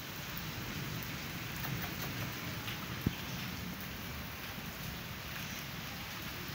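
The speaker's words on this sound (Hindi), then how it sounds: "बारिश अंदर तक आ गई है" Steady, heavy rain pours onto surfaces close by in a continuous hiss, with a single sharp knock partway through and no talking.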